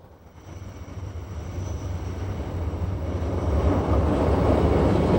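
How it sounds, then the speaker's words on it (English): A train on Switzerland's Davos line through the Prättigau pastures gives a low, rumbling roar that builds steadily louder as it draws nearer, with no talking. "Within minutes, our train arrives at Grush"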